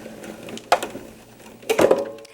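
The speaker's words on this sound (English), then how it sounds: "It's just the sound of the blade connecting with the cutting pad itself." A die-cutting blade crackling against the cutting pad inside a Big Shot Pro machine: two short, dry crackling bursts about a second apart, close but fairly quiet over a soft background hum, with no talking.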